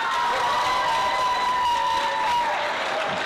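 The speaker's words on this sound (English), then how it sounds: "Let's give a round of applause for both of them." Middle school debate audience applauding and cheering steadily for two debaters, a continuous dense wash of clapping with whoops and shouts throughout.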